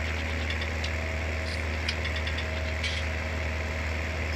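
Steady, close drone of a tractor engine in Farming Simulator 19, an even mid-pitched rumble running unbroken throughout with faint clicks over it.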